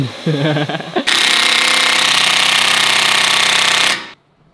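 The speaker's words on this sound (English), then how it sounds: "my favorite part of the job is cutting and drilling into cars I can't afford" Brief speech, then a loud continuous grinding whine of a power tool cutting into the metal body of a Mercedes-AMG GT for about three seconds before stopping abruptly.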